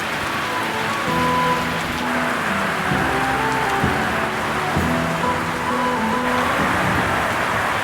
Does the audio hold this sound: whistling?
no